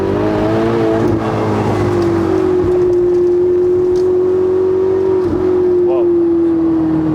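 A Ferrari 488 Spider with the optional sport exhaust and its valves open drones loudly and steadily from close by, a deep sustained engine note with small dips in pitch, under some talking.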